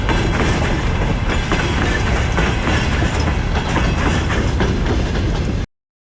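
Loud, steady rumble and rhythmic clatter of a freight train accelerating past close by in Khashuri, Georgia, then abrupt silence at the end.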